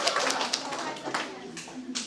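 Scattered clapping from a lecture audience on Filipino foodways, a few uneven claps over a short burst, mixed with light murmuring voices in a room.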